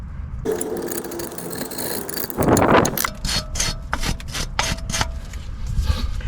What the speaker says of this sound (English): I'm going to give this a clean up because it's pretty scruffy and rusty.